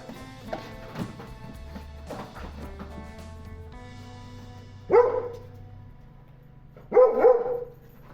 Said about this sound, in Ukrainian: До вашої уваги собака породи доберман